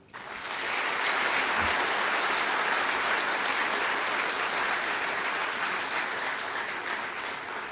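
Audience applause at the opening ceremony of a government hospital in Bsharri, a dense steady clapping that swells in within the first second and holds loud and even to the end, with no voices.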